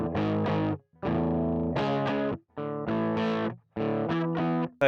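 An electric guitar run through a Quad Cortex with a Vox-style 2x12 cabinet plays distorted chords in short rhythmic bursts with brief gaps between them, played loud and close with no voice.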